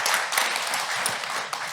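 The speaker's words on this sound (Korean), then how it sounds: "다시 한번 감사의 박수 부탁드리겠습니다" Audience applause at a 2022 reunification conference session in Korea, thanking a former foreign minister after his talk, a brief steady wash of many hands clapping at moderate volume, with no voices over it.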